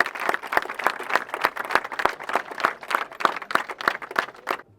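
An audience applauds at the Koi event with a modest burst of clapping, individual claps distinct and rhythmic, fairly close, steady for several seconds before tapering off.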